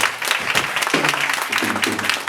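A church congregation claps and cheers during a sermon, dense steady applause with raised voices shouting over it, fairly loud throughout.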